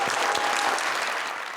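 A studio audience bursts into thick, energetic applause for the winner of a game on a TV talk show. The clapping is a short, continuous roar that fades a little at the end.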